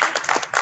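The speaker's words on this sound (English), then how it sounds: "A round of applause for him." A short burst of clapping at a workshop, greeting a senator who chairs the agriculture committee, several sharp hand claps over under a second.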